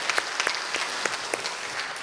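Congregation applauding during a Wednesday church worship service, a steady, dense patter of clapping hands filling the hall throughout with no voices over it.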